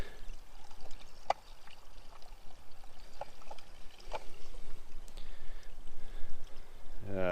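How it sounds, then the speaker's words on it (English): Water trickles slowly from a hose into a DIY duck and goose pond, a soft continuous pouring and burbling with a few sharper splashes, close by and fairly faint. "water's on, and this is a little bit slower than I would imagine."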